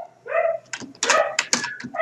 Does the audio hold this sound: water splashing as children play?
no